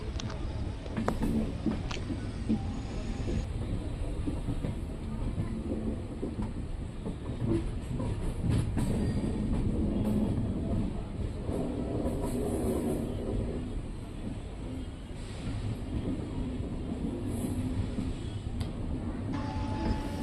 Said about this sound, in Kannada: ಕರ್ನಾಟಕ ಎಕ್ಸ್ಪ್ರೆಸ್ಗೆ ಪ್ಲಾಟ್ಫಾರಂ ನಂಬರ್ 2ಕ್ಕೆ ಎಂಟ್ರಿ ಆಗ್ತಿದೆ ನಮ್ಮ ರೈಲು